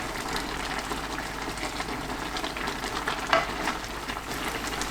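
Perilla seed powder being stirred into a simmering stew of young napa greens, with a soft bubbling sizzle and faint stirring scrapes that hold steady and close throughout.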